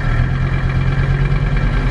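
Diesel tractor engine idling steadily after a Seafoam treatment, a loud, continuous low rumble with an even rhythm and no revving, heard alone up close with no talk.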